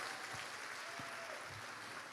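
An audience at a high school athletic awards ceremony gives a steady, dense round of applause, heard from within the crowd at moderate loudness.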